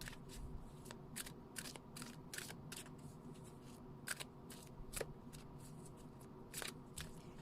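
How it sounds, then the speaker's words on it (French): Oracle cards being drawn from a deck of Alana Fairchild's Sacred Rebels Oracle, a series of sharp, close papery snaps and flicks in an irregular rhythm over a quiet background hum. "Je vais prendre 3 cartes."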